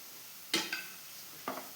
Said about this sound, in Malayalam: അപ്പം ഇനി ഞാൻ എല്ലാം കൂടി ഒന്ന് ഇളക്കുന്നുണ്ട്